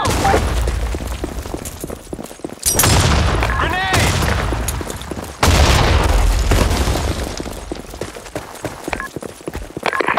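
Grenade explosions and gunfire in the BlackShot first-person shooter video game, several loud booms and rapid bursts of shots in heavy bursts, with short game voice announcements between them.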